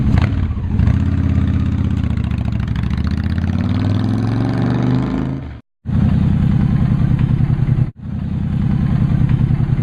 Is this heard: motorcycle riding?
yes